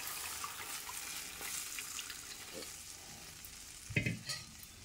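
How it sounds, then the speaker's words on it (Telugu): Paste is added to frying butter in a pan for carrot almond soup and stirred in, giving a soft continuous sizzle with a few scraping stirs and a louder clatter near the end. "ఇప్పుడు ఇది వేగుతుంది కదా, మనం ముందుగా రెడీ చేసుకున్న ఈ పేస్ట్ని ఇందులో వేసుకుందాం."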